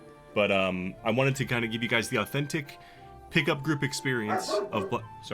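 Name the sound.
speaker's pet dog barking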